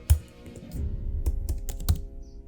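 Keys clatter on a computer keyboard as text is typed into a Photoshop text box, several quick close taps and a few sharper strokes, with no voice.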